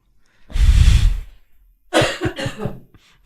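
A loud, close cough rasps out, then after a brief pause a few shorter throaty coughs follow.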